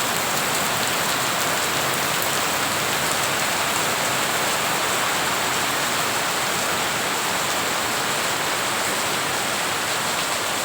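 Heavy rain pours down steadily, a dense, loud hiss of drops drumming on surfaces with no breaks.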